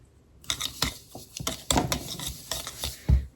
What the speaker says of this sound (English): we're going to whisk this around